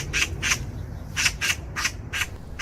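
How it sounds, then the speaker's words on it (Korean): A magpie squawks harshly and repeatedly, in six or seven raspy bursts at a quick, uneven rhythm. The calls are close and loud over a low background hum. "왜 이래, 이런 미친 까치가."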